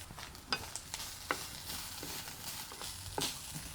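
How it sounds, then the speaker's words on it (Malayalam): Crushed coconut frying in coconut oil in a village kitchen gives a soft, continuous sizzle, broken by a few sharp scrapes of stirring against the pan. "വെളിച്ചെണ്ണ ഒഴിച്ചിട്ട് നാളികേരം വറുക്കണം"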